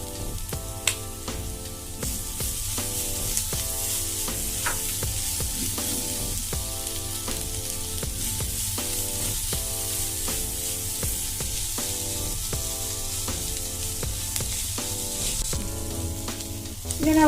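Curry leaves and coriander sizzle in a spiced beef filling for bread pockets, a loud, steady, close frying hiss that runs throughout without speech.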